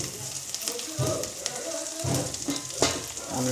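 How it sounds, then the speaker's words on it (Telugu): Onions fry in oil in a pan for egg curry with a constant crackling sizzle, broken by several close stirring scrapes as they are turned. "ఆనియన్స్ వేసుకొని ఇట్లా రెడ్గా అంటే ఎల్లో కలర్ అయ్యేంత వరకు తిప్పుతూ ఉండాలి"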